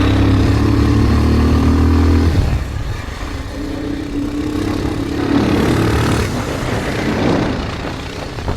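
A motorcycle engine runs loud and close while riding on the way to a fair in Solukhumbu, a steady hum dropping after a couple of seconds and continuing with rattling and uneven revving.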